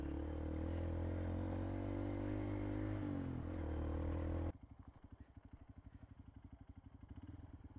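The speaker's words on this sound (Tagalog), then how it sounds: "May tricycle, may motor doon, oh." A tricycle and a motorcycle pass close by on a rural road, a loud engine drone that shifts pitch and then drops into a quieter, rapidly putting idle.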